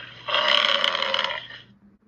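A bison letting out a single deep, rasping grunt that lasts just over a second, loud and close, then fades away.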